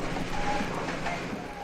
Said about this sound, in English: This is the sound of an 1862 Stillman and Allen steam engine,